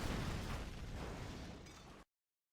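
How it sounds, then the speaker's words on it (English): Three or four Crusader tanks blowing up in the game Command & Conquer Generals: Zero Hour, a single sustained explosive burst that rumbles for about two seconds before cutting off abruptly. "3 or 4 Crusader tanks just pop"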